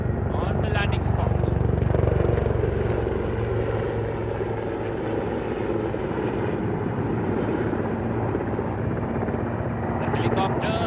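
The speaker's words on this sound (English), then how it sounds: "notice the helicopter as the pilot, using his superior skills, is making a deliberate approach to establish a pinpoint hover on the landing spot" An Indian Air Force military helicopter approaches and hovers over a landing spot, its rotor and engine a loud, continuous, close drone with a steady throbbing beat, heard alone.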